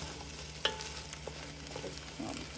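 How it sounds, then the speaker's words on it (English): Vegetables frying in a pan while they are stirred constantly: a quiet, steady sizzle with scattered scraping strokes and one sharper clink of the utensil against the pan. "Make sure to keep stirring constantly."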